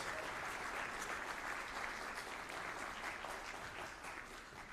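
Audience at a Loyola University New Orleans School of Music event applauding the main office, a steady dense wash of clapping from a large crowd, fairly distant and even throughout with no voices on top.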